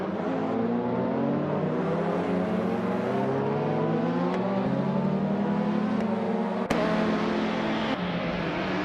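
A 2014 BMW M235 race car in iRacing, engine droning loud and steady from onboard, pitch climbing and dropping through gear changes with a few sharp clicks, no voices over it.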